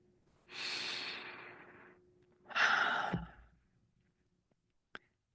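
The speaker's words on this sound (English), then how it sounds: "Breathe it in." A slow, deep inhale through the nose runs for over a second, then a second, stronger breath follows, close and alone in a quiet room during a guided relaxation session.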